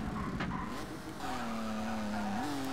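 In the ToCA Race Driver 2 video game, a race car's engine drones loudly as it goes off track, with a sustained tire skid and shifting engine pitch, continuous and close.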